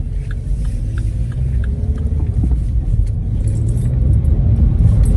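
Steady low rumble of a car's interior while driving, with road noise and light rattling clicks throughout and no talking.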